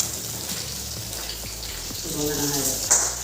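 Fish fries in a pan at home, a steady wet sizzle and crackle running throughout, growing slightly louder toward the end.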